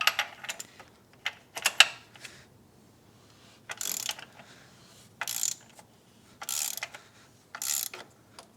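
Bolts being loosened and a part removed from the front of a BMW E90 328i's N52 engine during a crankshaft seal job, heard as a few quick ratchet clicks followed by several spaced bursts of hissing spray, fairly close and with no talk.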